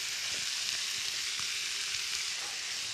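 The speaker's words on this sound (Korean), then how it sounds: "잘게 다진 것을 이렇게 좀 사이사이에다 같이 넣어서 볶아주시면 됩니다." Finely chopped ingredients stir-fried in a pan, with a continuous, moderately quiet sizzle and faint scraping and stirring knocks throughout.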